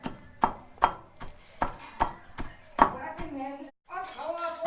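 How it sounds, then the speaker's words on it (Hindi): Garlic is pounded finely for chutney in a kitchen, with steady close thumps coming about twice a second, then a brief pause and faint background voices mixing in toward the end. "लहसुन को इस प्रकार से अच्छा है ना मया कर ले, बारीक कर लें इस तरह से"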